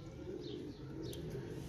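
Pigeons coo softly in a loft where a captured stray pigeon is kept with a pair, with low murmuring coos steady throughout and a few faint higher chirps, nearby and moderately quiet.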